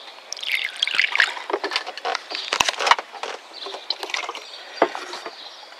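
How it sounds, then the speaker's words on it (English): Water draining through a car sunroof drain, close gurgling and trickling with irregular sucking slurps and small splashes, moderately loud and alone. "we'll probably hear the suction too over here on this one"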